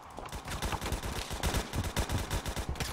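Rapid automatic fire from a P90 in the shooter game Phantom Forces, a steady stream of close, sharp shots running throughout with no talking.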